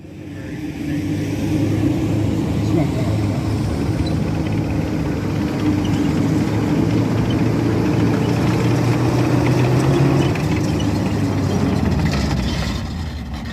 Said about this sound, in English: the next vehicle here, probably an iconic one, is the Willys Jeep